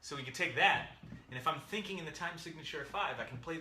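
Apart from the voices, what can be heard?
No everyday noises stand out.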